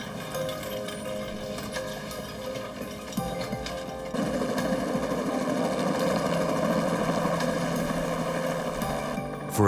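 A helicopter airlifting a critically ill child to a children's hospital in London, Ontario, its rotor and engine drone steady and loud throughout, with a slight step up in intensity partway through.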